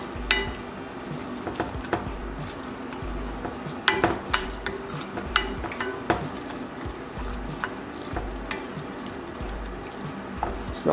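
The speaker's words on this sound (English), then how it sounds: "Mix together." Ingredients for a pineapple chipotle chicken meal with lime being stirred together in a bowl, repeated scraping and wet clattering strokes at an irregular rhythm, close and fairly clear, with no talking.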